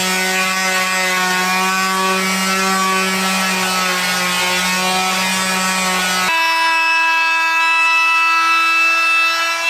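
A power router cuts a 1/8 inch round-over along the edges of a wooden chalkboard frame, a loud continuous high whine that shifts pitch partway through as the cut changes.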